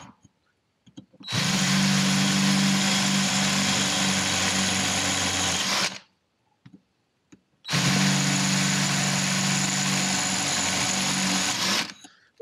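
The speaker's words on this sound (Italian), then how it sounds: "Quindi andrei subito a bucare" A handheld power drill bores four holes into a Graziella bicycle frame part in a home workshop, with two long, steady whirring runs of about four to five seconds each, separated by a short pause with a few small clicks.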